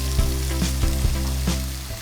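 Four finely chopped onions fry in a pan for a prawn mitta kuzhambu, a close, steady sizzle with a few soft stirring scrapes, no talking.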